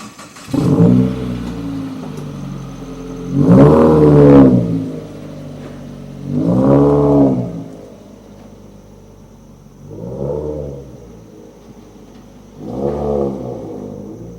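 A Chevrolet Corvette C6 with a skip-shift bypass installed revs up repeatedly while driving, five loud rising engine surges separated by quieter idling stretches.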